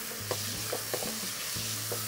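Spoon stirring spices and salt through vegetables in a pot for Bangalore-style donne biryani, a few soft scraping strokes over a low steady sizzle, close and fairly quiet.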